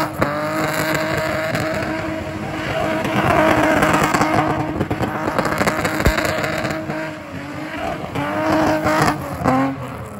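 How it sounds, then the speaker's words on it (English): A BMW E30 fitted with a 2JZ engine spins at a spincar event, its engine roaring steadily and its tires squealing continuously for about ten seconds, loud and close with crowd noise behind. "Whenever this E30 is and spinning, that's an event."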